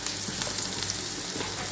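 Ginger garlic fries over a medium gas flame in a pan for soybean chilli, a continuous bright sizzle heard close and alone.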